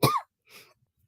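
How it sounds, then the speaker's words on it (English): A single sharp cough followed by a softer second cough, close and brief, with silence after. "Sorry, I have to cough."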